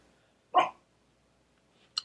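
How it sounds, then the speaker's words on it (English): A dog gives a single sharp bark, nearby and loud, followed by a shorter, fainter yip about a second and a half later in an otherwise quiet room. "Oh, it's a dog."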